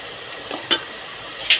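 Fried cauliflower and potato curry being stirred in a pan, with a few faint, brief scrapes and taps of a spoon against the metal over a quiet, soft background.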